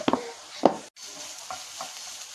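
Masala and onions stirred in a pan for vermicelli rice, with two distinct scraping clatters near the start, then a brief gap and soft ongoing sizzle with faint further stirs.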